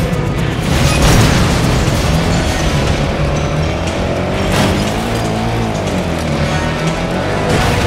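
In the video game Stuntman Ignition, a loud, dense roar of engines and rumbling blasts runs without a break, with a heavy boom swelling near the start and another burst midway.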